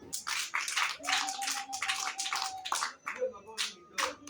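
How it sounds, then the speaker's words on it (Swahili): A church audience claps in broken bursts of applause, with a sustained tone and a voice heard in between. "Tuwapigie makofi basi."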